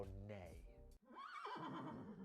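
A horse whinnies with a shrill, wavering cry that rises and falls, heard loudly up close, with a brief pause before a second neigh.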